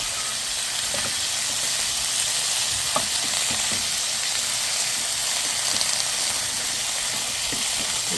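Long beans fry with garlic in a pan, giving a steady, fairly loud sizzle and hiss from start to finish, with faint scattered ticks of stirring.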